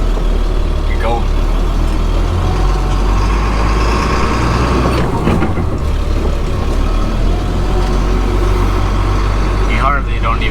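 A big old 6,500 truck engine runs loudly and steadily as the truck pulls away in first gear, a deep continuous rumble throughout, with a voice talking briefly near the end.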